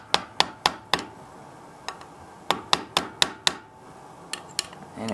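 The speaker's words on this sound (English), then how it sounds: "Take our trusty hammer and our screwdriver." A hammer taps a screwdriver to seat a .45 shell in a hole on a Yamaha V Star 1100 Custom, giving bright metallic clinks in quick bursts of three or four with short pauses, close and alone.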